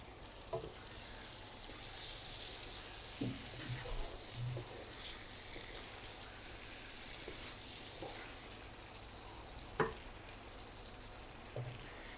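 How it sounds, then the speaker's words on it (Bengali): 750 grams of chicken liver pieces frying in a cooked-down spice paste, with a faint, steady sizzle under soft scattered clinks and stirring knocks from a utensil in the pan. "মশলাটাকে ভালো করে কষিয়ে নিয়েছি, আর এখানে কলিজাগুলো দিয়ে দিব"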